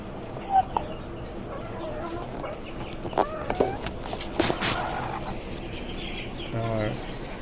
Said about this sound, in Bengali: টাইগার মুরগি